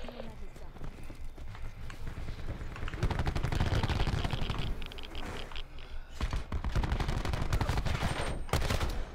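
Gunfire in the video game Call of Duty Black Ops 4, rapid bursts of automatic fire and single shots in a busy firefight, loud and continuous, with a person talking over it.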